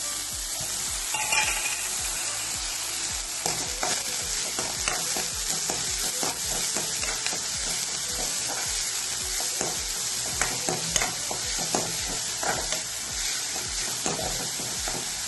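Sliced onion fries in coconut oil with popped mustard seeds for a colocasia thoran, giving a loud, continuous close sizzle broken by scraping stirs and small crackles throughout, with no voices.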